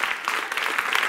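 Audience applause at a French stand-up comedy show, a dense, steady burst of clapping that fills the short moment on its own.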